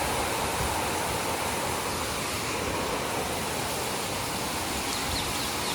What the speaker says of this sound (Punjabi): ਇੱਕਦਮ ਪਤਾ ਨਹੀਂ ਕਿੱਥੋਂ ਇੰਨਾ ਜ਼ਿਆਦਾ ਮੀਂਹ ਆ ਗਿਆ